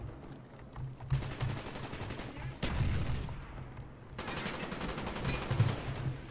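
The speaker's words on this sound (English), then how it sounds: "Got a nice little headshot on that guy." Bursts of automatic gunfire from Call of Duty Black Ops on PC ring out in rapid rattling volleys, loud and close, with brief pauses between the three main strings of shots.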